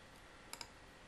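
Two faint, quick clicks of a computer mouse come close together against a quiet background hiss while selecting faces in CAD software.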